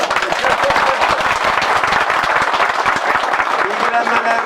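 Crowd applause at a gathering with a mayor in Turkey, steady dense clapping that runs the whole time at close range, with voices mixed into the noise.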